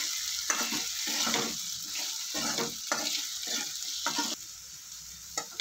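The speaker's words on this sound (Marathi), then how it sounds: "आता आपण हा बटाटा मिक्स करून घेऊया" Diced raw potato stirred and fried in ghee for sabudana khichadi, a steady sizzle broken by repeated scraping strokes of a spoon in the pan, close and fairly loud, with no one speaking.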